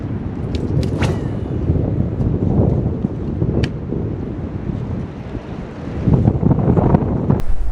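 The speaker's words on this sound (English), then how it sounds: "But this wind is ridiculous." Strong wind buffets the microphone during a fishing outing on the water, giving loud, continuous rumbling gusts with a few sharp knocks scattered throughout and no voices.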